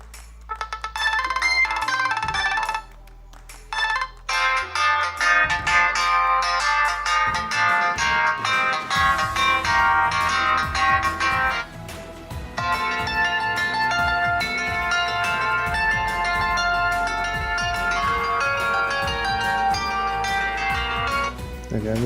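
Built-in ringtones on a ZTE Blade A2 Plus phone play one after another, loud and continuous melodic tones with brief gaps between tunes, heard alone.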